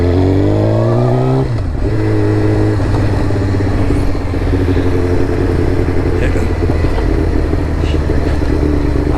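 A Suzuki GSXR 1000 motorcycle fitted with an M4 MC-36 full exhaust revs hard and close: engine pitch climbs, drops sharply, then settles into a loud, steady throaty drone that continues to the end.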